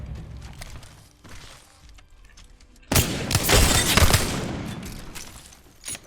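Wingman pistol fire in Apex Legends: a few scattered shots, then a loud dense burst of gunfire and impacts lasting about two seconds, ending with one more sharp shot.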